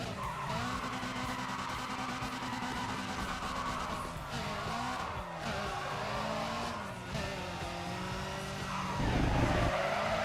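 A video-game car skids with the handbrake pulled fully on, tires squealing steadily over a droning engine, the screech holding for several seconds and swelling near the end.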